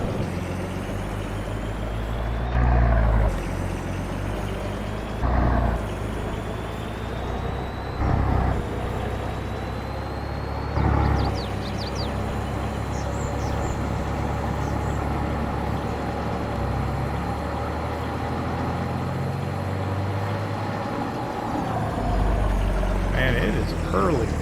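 A tractor in Farming Simulator 22 runs at a steady engine drone for the whole stretch, loud and continuous. Brief louder bumps and hisses break in every few seconds.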